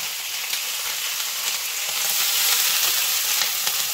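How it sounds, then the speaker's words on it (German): Spring onions searing in very hot oil in a pan, a steady, close, loud sizzle and crackle holding for the whole stretch and swelling slightly midway, with no voices over it. "Also richtig scharf anbraten."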